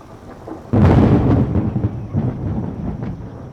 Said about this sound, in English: Rain falls through the forest, and it drips into the soil all around the coffee seed.